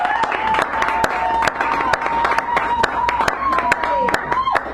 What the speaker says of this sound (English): Bring her back up with a nice round of applause.